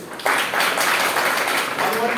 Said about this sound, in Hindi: ताली बजाइए इसके लिए।